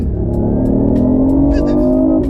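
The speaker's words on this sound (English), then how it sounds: "Sports mode, so we're getting the full capacity out of both the engine and the electric motor combined." A BMW i8 hybrid sports car in sports mode accelerates hard, its engine and electric motor rising together in a loud, close, continuous climbing roar with a few faint ticks on top.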